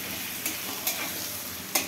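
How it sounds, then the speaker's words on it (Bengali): Whole garam masala spices fry in hot oil in a pan with a steady, loud crackling sizzle, broken by a few faint utensil taps. "এটাকে এখন লাল লাল করে ভেজে নেব।"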